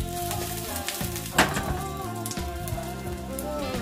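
Kimchi pancake frying in oil in a pan, a steady soft sizzle and crackle running throughout beneath background music, with one brief sharper spatter midway.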